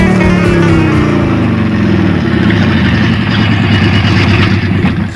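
A motorcycle engine idles steadily nearby, a continuous low throbbing rumble with a loud, even tone throughout and no talk over it.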